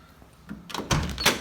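A truck door swings shut after its adjustment, a few light clicks and rustles building to two firm, fairly loud closing thunks close to the microphone, with no talking.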